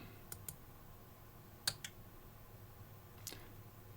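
Sharp computer mouse clicks, a few isolated taps spread across a quiet room tone, one at a time with gaps between them.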